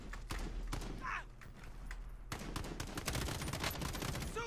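Bursts of gunfire from the Call of Duty Warzone video game, with sharp shots scattered through the first seconds and then a denser, sustained volley of rapid fire filling the back half.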